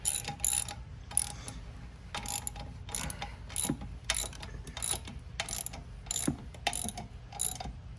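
A hand ratchet clicks in short repeated bursts while tightening muffler bolts on a Venom Motorsports x22GT 250cc motorcycle, close and alone in a quiet space.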